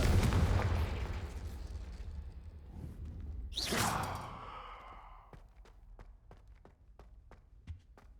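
A Confringo spell from Hogwarts Legacy bursts into a sudden fiery explosion with a bright whooshing crack that rumbles and fades, followed by a string of faint sharp ticks, with no talking over it.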